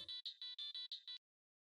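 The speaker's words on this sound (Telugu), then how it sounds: "కాల్ వస్తుంది" A phone ringtone for an incoming call plays as six or seven short, bright electronic pulses in a quick even rhythm, close and clear, then stops into silence.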